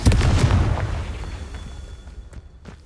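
A Confringo blasting spell explodes in the Hogwarts Legacy game, a heavy booming blast with a rumbling low-end burst that decays over a few seconds, while fainter crackling pops follow.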